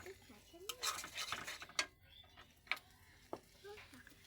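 A utensil clinks and scrapes against a pan while noodles with egg are stirred, irregular close metallic taps and rattles at low volume, with a faint low sizzle underneath.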